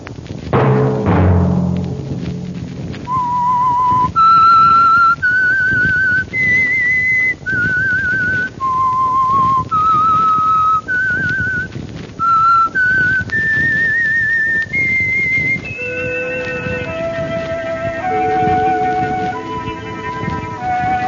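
The whistled theme tune of the radio drama The Whistler: loud, clear, with sustained pitched notes rising and falling in a steady phrase, backed by soft instruments near the end.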